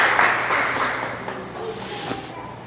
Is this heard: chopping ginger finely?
no